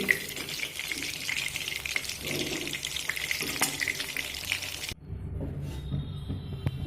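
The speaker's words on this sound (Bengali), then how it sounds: "এবার আমি তুলে নেব আর বাকি চিকেনগুলো একইভাবে ভেজে নেব" Chicken pieces frying in oil for chili chicken over raised gas heat, a busy crackling sizzle with scattered pops and scraping, then a cut to a quieter, thinner background with no talk.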